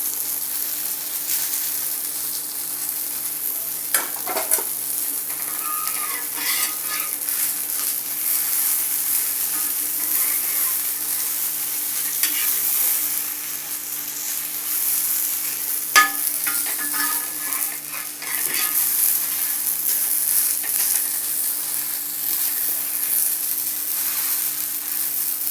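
Mushroom dosa roasting on a hot pan, a steady close sizzle and crackle throughout with a few faint scrapes and clicks, no voices.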